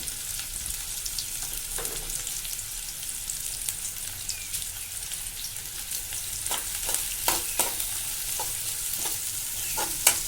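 Onion and green chillies fry quietly in a pan of hot oil for cauliflower and peanut masala, giving a steady faint hiss with a few light scrapes and taps and no voices.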